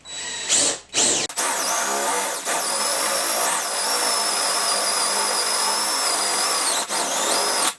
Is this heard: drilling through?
yes